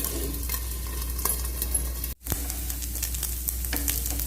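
An uthappam made from leftover rice batter sizzles in a pan over a medium flame. The frying hiss is soft and steady, with scattered small crackles and a brief dropout partway through.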